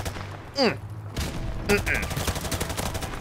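Bursts of gunfire from the video game Call of Duty Black Ops 4 crackle in short rapid volleys amid game effects, fairly loud, with a brief interruption partway through.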